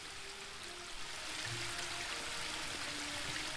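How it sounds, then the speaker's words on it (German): Steady rushing water from a waterfall in The Book of Unwritten Tales 2 adventure game, a continuous broadband wash of even loudness, alone with no talk. "Nochmal der Wasserfall."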